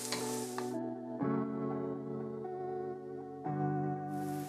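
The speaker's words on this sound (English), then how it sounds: "we're gonna add our onions, our garlic, and we're gonna saute this for a few minutes until those onions soften" Onions and garlic sauté in melted butter in a pan, a soft continuous sizzle under steady stirring, close and moderately quiet, with a couple of louder bursts as the pan is worked.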